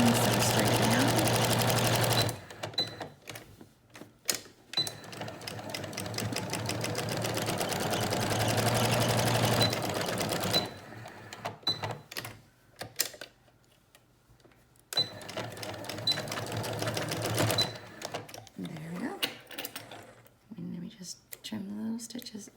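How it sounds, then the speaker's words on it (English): A home sewing machine stitches a washable beak-style fabric face mask, its rapid mechanical whirr running in several long bursts separated by pauses, with soft handling noises in between. "you just kind of lift your presser foot up where it's going to bunch there. And then sew straight down."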